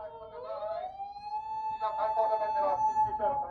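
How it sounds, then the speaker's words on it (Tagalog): Police car siren wailing nearby, a rising and falling electronic tone that climbs, holds and then continues with a second, rougher wail, with some background noise underneath. "Nagwangwang na yung pulis."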